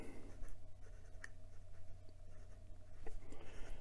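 Fountain pen with a Leonardo nib writing on Clairefontaine 90 GSM paper, a steady soft scratching of the nib across the page with a few light taps, close and quiet, no talk.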